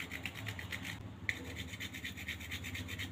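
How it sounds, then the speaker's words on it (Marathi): Small piece of nutmeg grated finely on a grater: a quiet, rapid run of rhythmic rasping strokes, close up, with one short pause partway through. "मी हा जायफळ एकदम बारीक किसून घेते"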